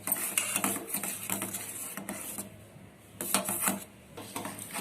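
Milk boiling in a pot for homemade kulfi ice is stirred with a utensil, giving repeated metallic scrapes and clinks against the pot in an irregular rhythm, close and fairly loud, with no voices.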